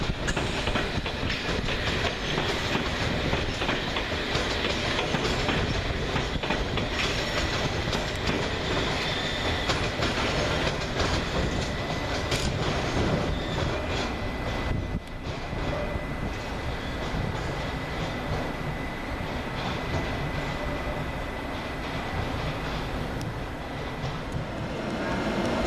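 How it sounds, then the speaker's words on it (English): London Underground District Line train to Upminster at Richmond station, a steady loud rumble with rhythmic clickety-clack of wheels over rail joints and brief squeals, continuous throughout with no voices. "going the other way with the 1524 London Underground District Line service to Upminster"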